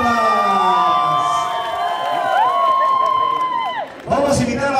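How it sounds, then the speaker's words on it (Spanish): A crowd at a golden anniversary celebration of a Chonguinos society in San Agustín claps and cheers under music and voices, the noise steady, then a fresh burst of applause and shouts near the end. "¡Esas palmas!"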